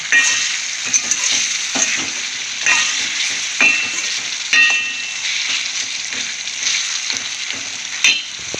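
Hot oil sizzles steadily as a tempering for dal fries in a pan, a loud, dense crackle with repeated clinks and scrapes of a spoon stirring against the metal.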